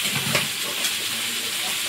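Cooked dal poured into hot oil tempered with panch phoron, turmeric and salt, giving a steady, close, broadband hiss of sizzling that holds evenly throughout.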